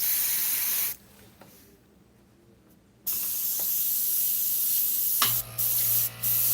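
Iwata CM-SB airbrush spraying Createx touch-up paint, a close steady hiss that cuts off for about two seconds, resumes, then ends with short bursts and a brief thump.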